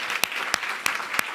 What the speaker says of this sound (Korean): 크게 축하의 박수.